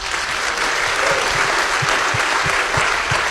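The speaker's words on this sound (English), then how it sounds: "Please give every woman an applause here." Loud, sustained applause from an audience honouring women, a thick continuous clatter of clapping with a few low thumps pulsing through it.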